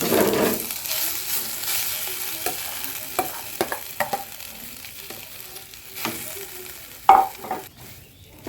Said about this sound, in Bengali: দেখো বন্ধুরা আমি এটাকে ভালো করে ভেজে নিয়েছি